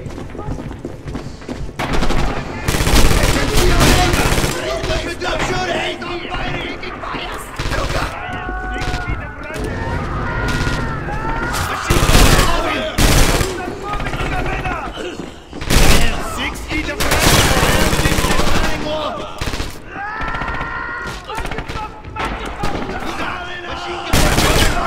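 Rapid machine gun bursts and heavy volleys tear through a Red Orchestra 2: Heroes of Stalingrad battle, loud and close, with thuds and shouting voices between the salvos.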